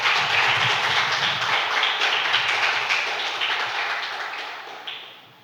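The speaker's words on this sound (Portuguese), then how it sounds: "Pode sentar e aplauda o nome do Senhor bem forte" A church congregation claps loudly and steadily in a dense, sustained burst of applause that fades out toward the end.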